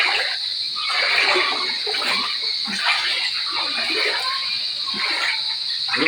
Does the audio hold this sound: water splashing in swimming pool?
yes